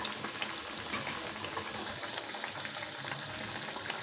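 Chana dal masala vadas frying in hot oil over medium heat make a continuous, faint bubbling sizzle with small pops, steady throughout and with no voices.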